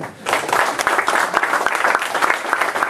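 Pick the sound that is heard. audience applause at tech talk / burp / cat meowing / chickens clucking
audience applause at tech talk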